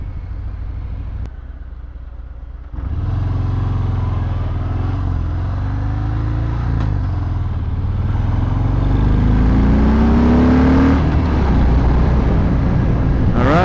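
A 2018 Harley Davidson Fat Bob fitted with a Screamin' Eagle exhaust rumbles loudly and continuously while being ridden. The engine note climbs steadily as it accelerates and stays close and strong throughout.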